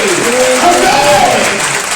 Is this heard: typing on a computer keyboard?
no